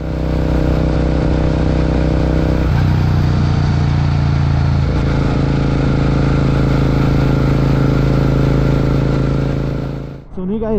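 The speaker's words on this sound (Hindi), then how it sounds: "पहले गाइस आवाज सुनो आप एग्जॉस्ट की" A Royal Enfield Interceptor 650 with a modified exhaust runs close and loud, its deep throbbing idle rising in pitch partway through before cutting off abruptly near the end.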